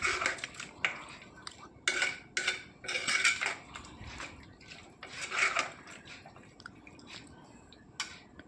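Vegetables and avarekalu curry are stirred in a pressure cooker pot, giving irregular close metallic scrapes and clinks from a spoon against the pot, alone with no talking.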